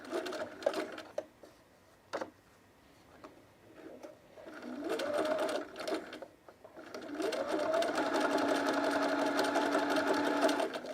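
A cover stitch machine sews picot elastic onto underwear, its motor whirring in short bursts at first, then running in longer steady runs, close by.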